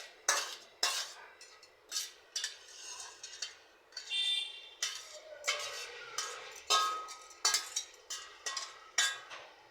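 Fried vegetables scooped from a pan into a bowl, a run of sharp metal spoon scrapes and clinks against cookware in irregular bursts, close and fairly quiet.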